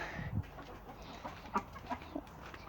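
Chickens in a backyard coop give a few soft, scattered clucks at low level over faint background noise, with no voices.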